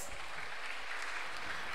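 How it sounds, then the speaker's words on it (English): A studio audience at the National Science and Maths Quiz claps for the Enum Presby Senior High School team, a short, faint but even wash of applause throughout. "Let's give them a round of applause."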